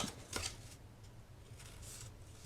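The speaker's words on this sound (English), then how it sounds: "take my scissors and I'm just going to round that a little bit" Scissors rounding the corner of a sheet of 12x12 craft paper, a few quick soft snips and rustles, close and fairly quiet.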